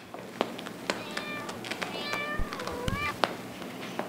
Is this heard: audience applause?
no